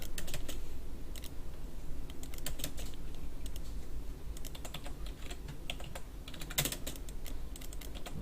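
Commands are typed on a computer keyboard while drawing parts in CAD software, a steady run of close, light key clicks in quick irregular bursts with occasional louder strikes, over a faint hum and with no speech.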